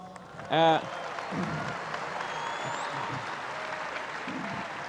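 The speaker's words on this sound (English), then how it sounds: "Can we give him an applause?" Church congregation giving a man on stage applause, a faint steady wash of many clapping hands that holds through the whole stretch, with a brief squeal near the start and a voice talking over it.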